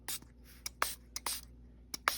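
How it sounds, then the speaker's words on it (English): A handheld spray bottle mists water onto junk journal paper in several short, sharp hissing bursts, close and irregularly spaced, each puff a quick airy spritz. "To spray with water and see if it will"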